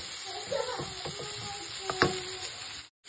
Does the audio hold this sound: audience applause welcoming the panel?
no